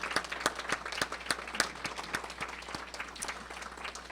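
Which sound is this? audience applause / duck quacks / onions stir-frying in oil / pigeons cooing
audience applause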